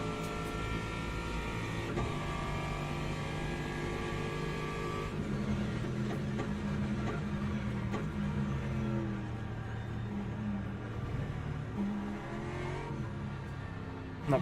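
Race car engines in a racing video game, including a Ferrari, a steady high-pitched whining drone that rises and shifts in pitch as the cars run in close company, moderately loud and continuous with no talk.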